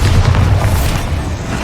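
A Bombarda blasting spell in Hogwarts Legacy detonates as one loud, close, deep boom whose rumble rolls on without a break.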